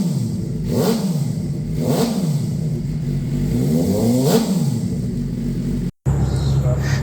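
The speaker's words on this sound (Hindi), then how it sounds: "व्यूअर्स, आपने देखा इसका साउंड टेस्ट" A 2024 Suzuki GSX-R 750 sport motorcycle in clean, near-mint condition is revved up and back down again three times, each rise and fall a throaty, rumbling sweep close by, with a brief cut just before the end.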